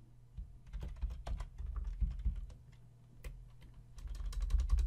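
Someone types on a computer keyboard nearby, with quick irregular bursts of key clicks over a low steady hum and no speech.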